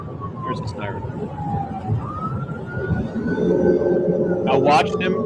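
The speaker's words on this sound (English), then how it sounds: "Here's the siren." A police car siren wails in a slow rising and falling tone, moderately close, under someone talking over rumbling traffic noise.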